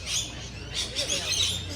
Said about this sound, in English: these birds are too noisy